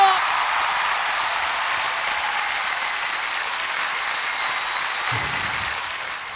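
A large audience applauds to welcome a Korean rock musician onstage; an even, sustained wash of clapping that fades slightly toward the end.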